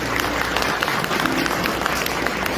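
Wedding guests applaud the bride and groom after they bow to their parents, a dense, continuous wash of clapping that holds loud and even throughout.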